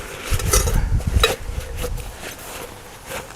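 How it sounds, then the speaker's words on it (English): Metal pot, lid and hobo stove parts from a homemade cook kit clink and scrape as they are pulled out of a stuff sack and separated, a close cluster of rattles early on, then quieter handling. "here's the stove in its stuff sack, and I'll take it apart for you"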